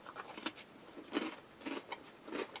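Crisp, crunchy sweet dessert biscuit from a Spanish army breakfast ration being bitten and chewed close up, with several short crackling crunches spaced about half a second apart and quiet gaps between.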